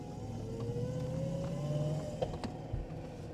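A BMW X5 4.6is with a swapped six-speed manual gearbox idles and takes a light blip of throttle, its engine note climbing gently and then settling, heard close with a few mechanical knocks near the end.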